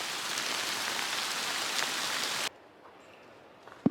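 Hail in good-sized chunks pelts down during a storm on a mountain trail, a dense, steady hiss of impacts that stops abruptly, leaving near quiet broken by a few faint ticks.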